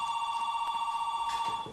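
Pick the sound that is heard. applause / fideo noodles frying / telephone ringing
telephone ringing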